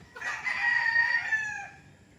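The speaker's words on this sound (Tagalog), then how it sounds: "dito sila nagtitraining ng mga manok nila." A fighting rooster crows once at a gamecock training farm near Nagcarlan, a long, clear, drawn-out call close by with no voices over it.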